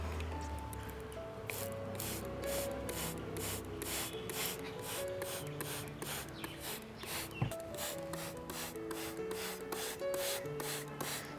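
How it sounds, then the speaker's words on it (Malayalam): Nano DAP fertilizer solution sprayed from a hand pump sprayer onto orchid plants, a rapid series of short pulsing spray bursts repeating steadily, close and quiet with no speech. "ഇത് നമുക്ക് പ്ലാന്റ്സിലൊക്കെ ഒന്ന് സ്പ്രേ ചെയ്യാം"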